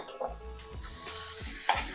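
Chopped banana dropped into melted ghee for payasam, giving a soft sizzle with light stirring scrapes throughout, a brief louder clatter near the end, fairly quiet and close.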